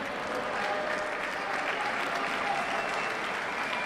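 An arena crowd at the Palasanturo applauds steadily throughout as an injured player walks off the court during a Serie A Gold match between Sassari and Conversano, a dense, continuous clapping with no individual voices standing out.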